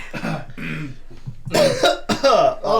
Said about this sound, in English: I actually do need to cough after that